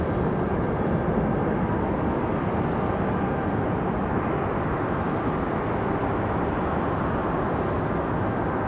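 A jet airliner, Subject 466, departs from Raleigh-Durham International Airport, a loud, steady, broadband engine roar that holds without a break, with no talk.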